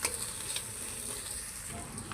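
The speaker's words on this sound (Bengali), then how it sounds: "মশলাটা ভেজে নেব।" Spice paste of ginger-garlic, turmeric, chili powder and salt frying in a pan for a puti fish curry with beans and potatoes, a soft, steady close sizzle with light crackles.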